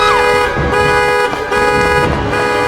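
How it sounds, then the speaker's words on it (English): A car alarm sounds in a horror scene, a loud, steady electronic tone that cycles in repeated pulses about once a second. "then the car alarm goes off, she's scared"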